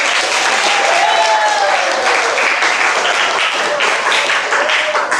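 Classroom applause rewarding students who answered a science quiz correctly: loud, continuous dense clapping close by, with faint voices rising briefly beneath it.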